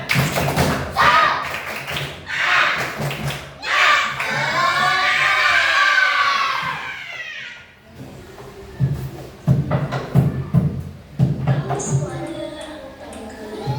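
A class of students does a repeated spirit clapping chant, rhythmic bursts of hand claps with loud group chanting in between, followed by scattered claps and talk close by.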